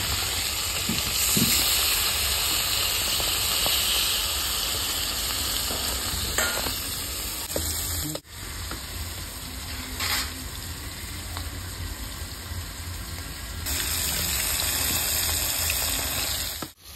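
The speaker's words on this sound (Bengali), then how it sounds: "মাছ ভাজা হয়ে গেছে, তুলে নিচ্ছি। কড়া করে ভাজলাম মাছটা।" Rohu fish fries in hot oil, giving a loud continuous sizzle and hiss with occasional bursts of spatter and stirring clatter, dipping briefly midway before rising again.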